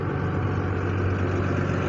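An RV engine idling nearby along a street, a steady, continuous low rumble that holds an even level throughout with no other sounds standing out.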